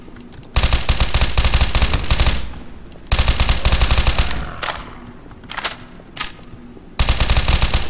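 Machine gun fire in Garry's Mod on a horror map, long loud sustained bursts broken by short pauses, close and dominant with no talk.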